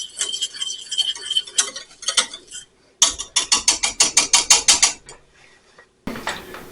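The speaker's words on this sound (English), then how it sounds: "Let's whisk it just a little bit more." A whisk beats a condiment in a bowl in a kitchen, rapid rhythmic metallic clicking against the sides in steady bursts, one fast run of about a dozen strokes, close and distinct with brief pauses between.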